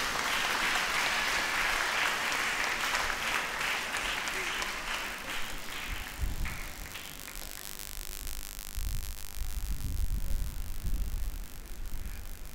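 Sustained applause from an audience at an 80th birthday celebration for a Nigerian monsignor, dense and steady throughout, with a voice breaking in toward the end.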